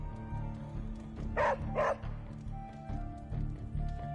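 A puppy named Charlie in the video game Marvel's Midnight Suns gives two quick close yips or barks over a low game soundtrack, with no talking.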